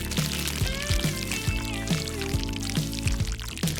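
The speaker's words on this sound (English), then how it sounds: "Pour it into the glove." Thick glue mixture pours steadily into a glove over a rhythmic background beat of music, with no speech.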